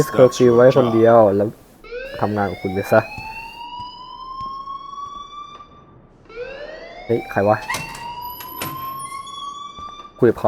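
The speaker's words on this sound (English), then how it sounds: "please turn off that alarm" A rising, wailing alarm sounds in the Life Is Strange video game, its electronic sweeps repeating in two long bursts while voices talk over the start and again near the end.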